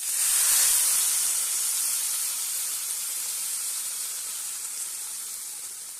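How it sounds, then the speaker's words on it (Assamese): Water poured into a hot pan for Maggi noodles after eggs were added gives a loud burst of steam and hiss that slowly fades over several seconds, with no talking. "অলপ টাইম লৰাই থকাৰ পিছত ইয়াতে পানী এড কৰি দিওঁ।"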